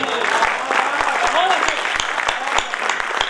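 An audience at a Hindi poetry gathering claps in scattered, separate hand claps, with a voice speaking over the applause.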